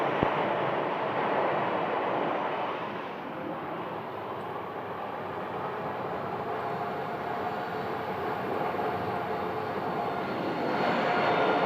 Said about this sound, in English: this is an Airbus A330-200, and they are departing for Honolulu